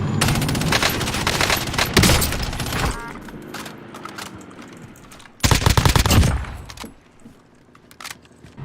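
Gunfire in Call of Duty Warzone from an AK-74u: two loud bursts of rapid automatic fire, a sustained stretch at the start and another near the middle, with quieter game noise and scattered single shots between.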